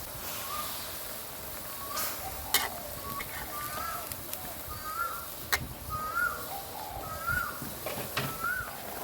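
Catfish being gently turned in a pan of sour bamboo shoot curry, with a low simmering sizzle, a few light clinks of utensils, and crows cawing faintly in the background.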